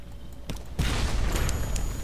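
A shot from a ship's gun in Sunless Sea lands as a sudden, deep boom with a rumbling tail, following a few faint earlier thumps, with no voices.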